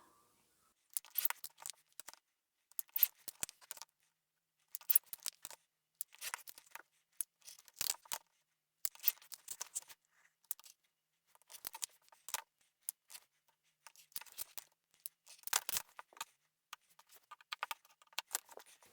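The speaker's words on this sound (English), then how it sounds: "I'll cut this fabric out, making sure that I've got that seam allowance all the way around." Scissors snip through fabric for a sewing project, cutting out pieces with a seam allowance. The short, crisp crunching cuts come in quick clusters separated by brief pauses, close to the microphone and with no talking.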